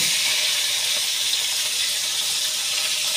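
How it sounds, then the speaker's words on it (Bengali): Bata fish frying in oil in a wok gives off a loud, steady sizzling hiss that runs unbroken through the whole stretch, with no voices. "এখন মাছগুলো ভালোভাবে ভেজে নেব।"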